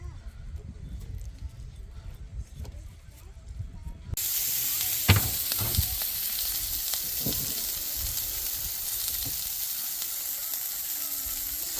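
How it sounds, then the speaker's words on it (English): Panko-coated strips shallow frying in a pan give a steady, loud sizzle and hiss that starts abruptly partway through and continues to the end, with a few sharp pops and crackles. "coat them in panko mix and just shallow fry them in oil"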